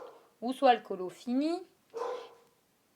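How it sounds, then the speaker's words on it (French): A pet dog barks and whimpers in yips behind someone talking in French during a relaxed coloring session, the short barks mixed in with her steady speech across the moment. "Désolée pour derrière, c'est mon chien."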